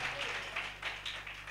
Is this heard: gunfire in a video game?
no